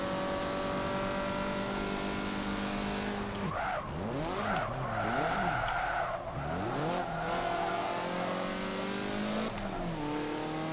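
Mazda MX-5 Cup race cars in the Forza Motorsport 7 video game scream past at high revs, with engine pitch sweeping up and down through gear changes and a tire squeal partway through, steady and loud with no talking.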